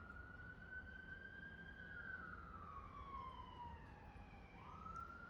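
A distant emergency vehicle siren passing by wails in long, slow rising and falling sweeps over a low background rumble, steady and fairly faint.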